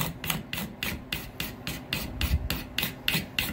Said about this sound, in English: It'll scrape this glue off without gumming up.